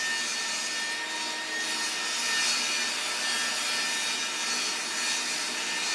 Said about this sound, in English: The sawing, I think it's really loud.